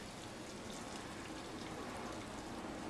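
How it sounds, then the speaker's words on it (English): Boiling water pours over wood chips being sterilised for mushroom planting, a continuous splashing hiss at low volume that stays steady throughout, with no talking. "we're gonna just scorch it with boiling water all over"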